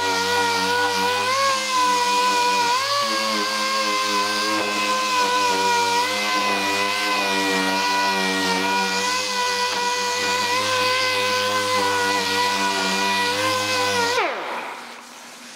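Orbital sanding machine working over car paint with 800-grit paper during a spot repair, a steady loud whine with shifting harmonics running continuously for about fourteen seconds before cutting off abruptly.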